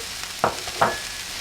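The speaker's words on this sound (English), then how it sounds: "Now the onion is alright, so I'm going to add the chili powder" Onions frying for Sri Lankan-style beef bistek as chili powder is added, a faint soft sizzle with two brief louder scrapes of a spoon in the pan.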